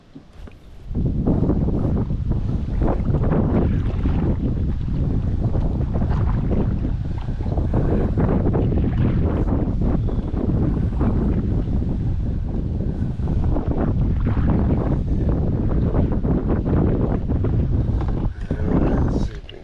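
Steady wind gusts across open water while a small boat drifts in shallow water, producing a loud, continuous buffeting roar on the microphone with faint splashing beneath it.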